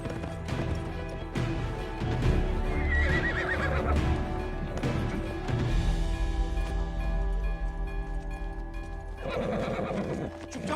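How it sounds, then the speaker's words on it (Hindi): A horse whinnies loudly and repeatedly while hooves clip-clop close by, with crashing movement around it and no speech. "हम घोड़े को हवेली छोड़ देंगे"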